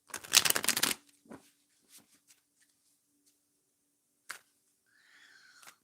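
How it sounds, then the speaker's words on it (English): Tarot cards are shuffled in a quick, loud riffling burst up close, followed by scattered soft card handling sounds, a faint steady hum and a brief slide near the end. "let's shuffle some tarot cards"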